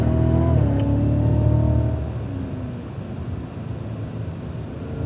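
Engine of a 2016 Cadillac CTS-V on a race track, a loud steady drone with rising harmonic tones for about two seconds before the pitch drops and settles into a quieter rumble.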